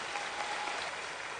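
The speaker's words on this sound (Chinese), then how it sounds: "可以来一波掌声" A studio audience applauds at a televised dating show, a dense, steady burst of clapping filling the room.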